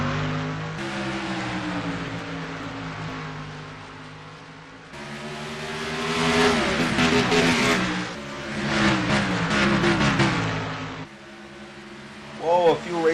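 Race cars accelerate at the start of a fictional Piston Cup race at Bristol Motor Speedway, their engines droning and then roaring louder as the field surges, with rising pitch and passing sweeps.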